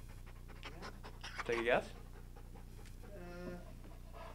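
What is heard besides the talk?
police dog panting, Dutch Shepherd and Belgian Malinois mix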